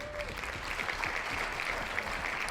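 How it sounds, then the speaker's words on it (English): Applause during an ESL Open Cup Europe StarCraft II match broadcast: a steady, dense patter of clapping that holds at an even level for about two and a half seconds, with no talking over it. "Round of applause for everyone being awesome and supporting."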